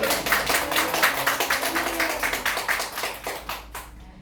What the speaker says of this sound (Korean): 하나님께 정말 영광의 박수를